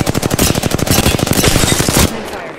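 Rapid automatic gunfire in Apex Legends, a loud close burst of evenly spaced shots for about two seconds that then cuts off.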